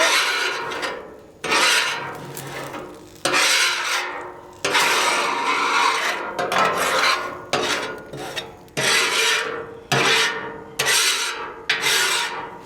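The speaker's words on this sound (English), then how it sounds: "And I take my scraper and just scrape it." A metal scraper rasps across a hot Blackstone griddle in about nine loud, rhythmic strokes, each a harsh scrape followed by a short pause, with no talking.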